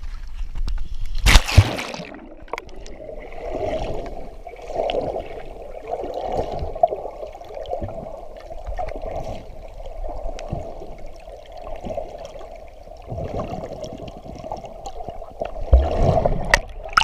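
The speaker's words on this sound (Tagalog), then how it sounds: "Dagat, mga idol, dagat." Sea water washes steadily along a white-sand beach in Anda, Pangasinan, a continuous sloshing surge close by with a loud splash near the start and another toward the end; a voice breaks in briefly.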